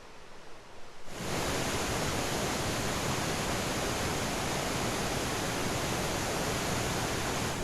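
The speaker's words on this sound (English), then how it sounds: "Alright, here's Gorge Falls." Gorge Falls on the Black River in Michigan's Ottawa National Forest roars as a loud, steady broadband wash of falling water, rising abruptly after a quieter opening second and then holding constant close by.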